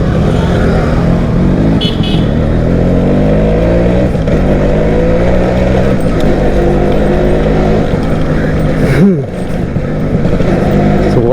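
A Suzuki AX 100 motorcycle engine runs at a steady, close rumble throughout, with a brief dip near the end.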